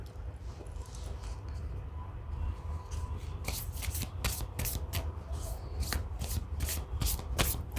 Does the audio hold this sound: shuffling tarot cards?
yes